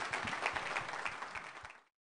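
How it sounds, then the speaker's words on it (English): An audience applauds Les Miles, LSU Tigers head coach, at a Capital One Bowl event: dense, steady clapping from a modest crowd, faint and even, fading out abruptly near the end. "Please go ahead and give a nice round of applause to head coach Les Miles of the LSU Tigers."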